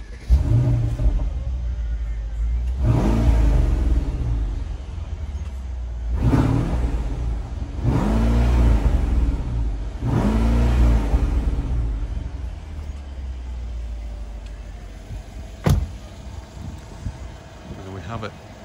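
A Mercedes S500 Cabriolet's 4.7-litre V8 revs four times from idle, each rise a deep, swelling roar that falls back to a low burble, followed by a sharp click and a quieter idle.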